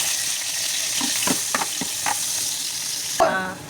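Onions frying in hot oil, a continuous bright sizzle with a few soft clinks and stirring knocks, and a louder burst of spattering near the end.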